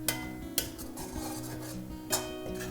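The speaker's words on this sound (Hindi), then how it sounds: "करछी चलाते जाएंगे" A ladle stirs and scrapes browning onions in a cooking pan, making steady metallic scraping with a few clanks against the pan, close and fairly quiet with no talking.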